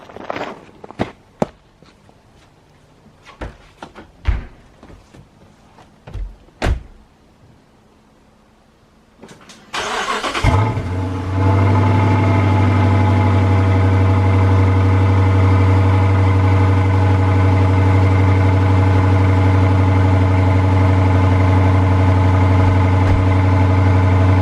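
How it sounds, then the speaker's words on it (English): Cold start of a 2016 Dodge Charger Pursuit with the HEMI 5.7L V8 and mid-muffler delete: a few footsteps and door clunks, then the engine fires loudly and settles into a steady, deep, droning idle close by. "Let's go ahead and do a cold start,"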